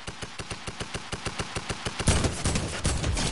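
Rapid, evenly spaced Fortnite gunshots fire in a fast rhythmic burst, then blend into a louder, denser clatter of gunfire and noise at the end.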